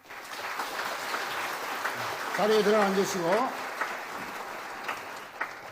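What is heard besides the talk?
congregation applauding during church ceremony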